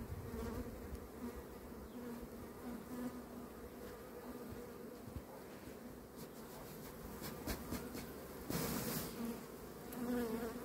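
Bees buzz continuously and close, a dense droning hum with a few louder passes near the end.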